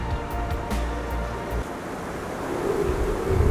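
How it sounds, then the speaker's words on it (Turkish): Strong gusting wind buffeting the microphone at a seaside village on a peninsula, a continuous rough rumble with surf-like wash, loud and close, no talking. "Gerçekten oldukça rüzgarlı bir gün."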